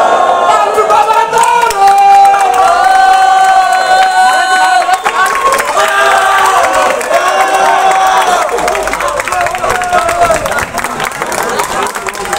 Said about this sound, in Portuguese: gostei das palmas, mas barulho pro terceiro round!